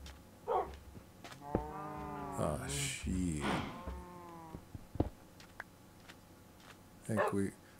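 Several long, low cattle moos from Minecraft cows in a row, fairly close, with a faint short animal call before and after.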